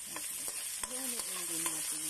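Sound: frying ginger and garlic for chicken caldereta

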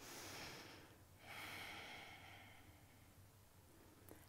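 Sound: Ujjayi breathing through the nose in power yoga

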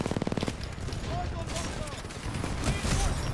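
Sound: gunfire in a drive-by, from a video game

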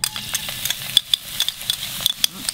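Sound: chopped garlic frying in coconut oil

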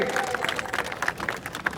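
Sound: audience applauding at a statue unveiling event

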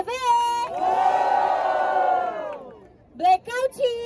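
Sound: rap battle crowd cheering and shouting

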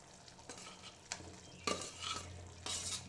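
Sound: stirring potatoes in a pot

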